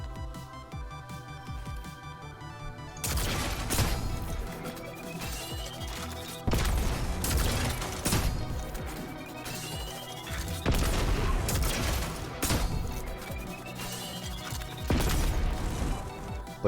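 Destiny 2 weapons fire in loud repeated blasts and crashes, each burst followed by shorter mechanical reload clatter, the cycle repeating several times over a steady game soundscape.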